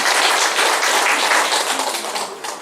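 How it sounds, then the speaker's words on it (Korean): Audience at a Korean lecture on Daegu's development vision bursts into sustained applause, dense and loud clapping from a full room that fades slightly toward the end. "정말로 마지막에 아주 깔끔하게 말씀 잘해주신 노른철 학장한테 다시 한번 뜨거운 박수"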